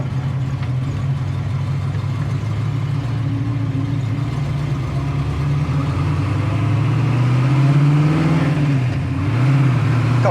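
A 1967 Chevrolet Camaro RS/SS with a four-speed manual pulls away over gravel, a close, steady engine rumble that swells as it accelerates, with no voices.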